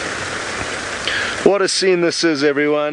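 Steady pouring rain on a safari drive in the Maasai Mara hisses alone at first, then a voice speaks close over the ongoing downpour.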